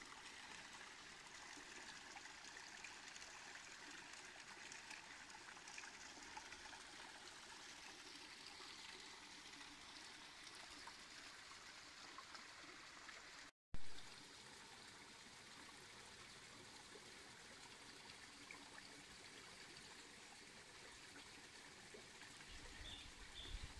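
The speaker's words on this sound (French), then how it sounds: "Et voilà l'eau à profusion." Water flows continuously and abundantly at a mountain refuge in the Ballons de Servance and Alsace area, a steady, even rush heard from a little distance, fairly quiet, with no talking.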